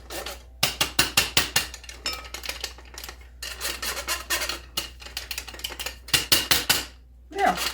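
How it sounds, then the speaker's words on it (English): Dry ingredients for a Texas sheet cake being sifted, rapid rhythmic rasping and tapping strokes in quick bursts with brief pauses, close and fairly loud. "So we're just going to go ahead and get this sifted."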